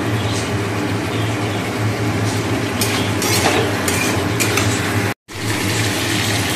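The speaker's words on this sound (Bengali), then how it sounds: "তো সমস্ত মশলা দিয়ে দেখো কষিয়ে নিচ্ছি আগে।" Spices are stirred and fried in a pan for a vegetarian curd-and-pointed-gourd dish, with a steady sizzle under repeated scraping and clinking of a spoon against the pan, briefly interrupted near the end.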